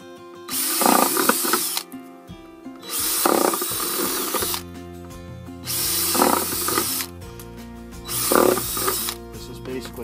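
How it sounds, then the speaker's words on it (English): A power drill with a step bit cuts holes through a plastic tree pot in four separate bursts, each a loud whirring grind lasting about a second, separated by quieter pauses with mechanical hum. "I'm using a step bit, it goes up to 3/4, so I'll go right through and just drill a bunch of holes in there."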